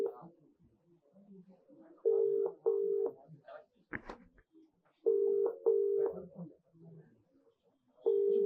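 A telephone call connecting, with a repeated pair of steady electronic ringing beeps sounding at regular intervals while someone talks in the gaps between them.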